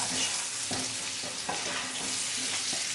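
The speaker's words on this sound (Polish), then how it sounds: "dodaję masło, i dodaję gruszki. I to należy tak 5 minut przegotować." Pears cooking in melted butter and caramelised sugar in a pan, made for a pear cheesecake with crumble: a steady close sizzle and frying hiss with a few soft stirring scrapes, no talk.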